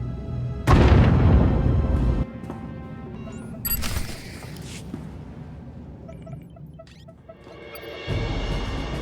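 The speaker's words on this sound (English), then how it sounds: "The generators! Detonation in 10 seconds." Shield generators blowing up in Star Wars: The Old Republic, a heavy booming blast that rumbles for over a second, then a sharp crash and lighter rumbling and clattering, with battle ambience behind.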